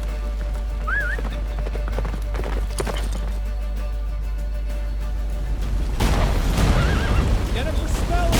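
Hoofbeats of Geralt's horse Roach galloping in The Witcher 3, a steady drumming rhythm under a constant low rumble, with a whinny and a brief voice, growing louder and busier near the end.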